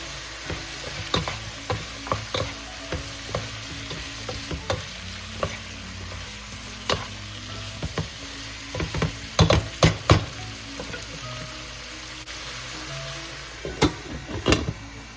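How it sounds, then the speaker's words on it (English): Fish sauce sizzles and bubbles in a pan while being stirred, a soft steady frying hiss punctuated by scattered sharp clicks of a utensil, clustering more densely toward the end. "Bubble this up for about 30 seconds to absorb the umami flavors of the fish sauce."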